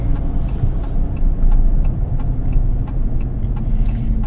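A 2022 Ram TRX truck driving, with a steady low engine and road rumble inside the cabin and a faint regular ticking, like a turn signal, throughout.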